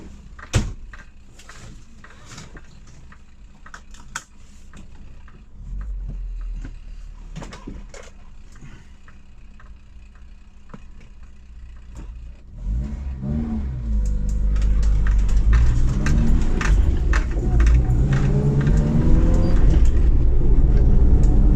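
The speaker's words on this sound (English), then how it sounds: "we'll take you for a little spin in it" A 1977 Morris Marina 1.3 Deluxe: a door thuds shut, followed by clicks and handling noises, then the engine cranks and starts around midway and settles into a loud, steady running and revving drone as the car pulls away.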